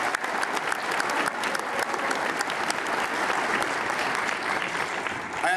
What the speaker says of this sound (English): Give it another round of applause